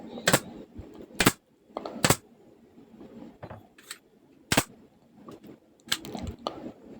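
A nail gun drives fasteners into wood while a circular saw table and its fence are built, several sharp, loud cracks at irregular intervals with quieter knocks and handling noise between them.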